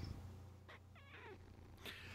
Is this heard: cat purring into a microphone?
yes